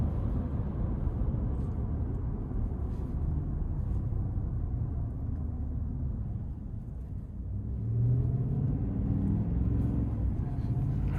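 A 2026 Ford F-150 XLT pickup with a 5.0 V8 drives at speed, its steady low road rumble and engine drone filling the cabin, swelling slightly near the end with no talk over it.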